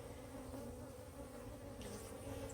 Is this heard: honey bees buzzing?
yes